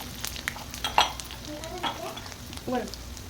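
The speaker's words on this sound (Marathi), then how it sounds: "आता टाकूया फोडणी फोडणीला तेल जिरे मोहरे टाकलेले त्यामध्ये टाकायचं आहे आपलं वाटण" Ground coconut and garlic paste sizzles softly in oil with cumin and mustard seeds while a spoon stirs and taps in the pan, a few sharper spits and crackles rising near the start.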